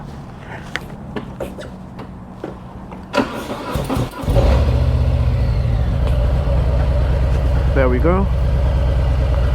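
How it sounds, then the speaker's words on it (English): A motorcycle engine cranks with a short starter whir, catches and settles into a loud, steady idle close by, with a voice talking before and over it. "so right now, cranking her up."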